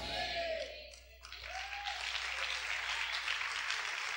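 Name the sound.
congregation applauding in church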